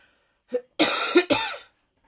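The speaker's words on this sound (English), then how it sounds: "I apologize for my coughing." A short throat sound, then two harsh hay fever coughs in quick succession, close and fairly loud, with no talking.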